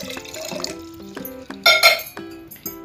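Water poured from a vessel while making homemade oral rehydration solution in a kitchen, heard as a short run of clinks and liquid splashes with a brief louder pouring burst in the middle.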